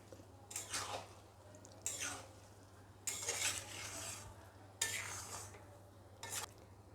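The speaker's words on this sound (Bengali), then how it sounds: "দিয়ে এবার একটু নেড়ে দেবো" Egg pulao is stirred in a pot in five separate scraping, rustling passes with short pauses between them, close and fairly soft over a low steady hum.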